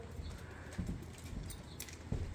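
Horse hooves clip-clopping near a house with horses, a faint, irregular series of soft knocks over a steady background hiss, heard without talk.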